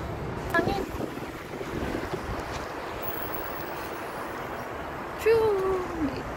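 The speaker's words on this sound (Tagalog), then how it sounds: "Sarap na hangin." Steady wind rushing and buffeting the microphone outdoors, with a brief voice rising near the end.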